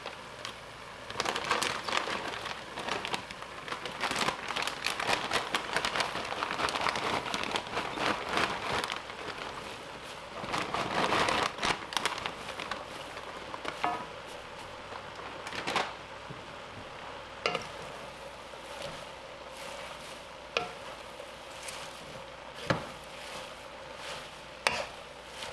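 Kale and carrots stir-frying in a pan over medium heat: a soft sizzle with repeated clatters and scrapes of a utensil against the pan, sustained and fairly quiet, with no talking.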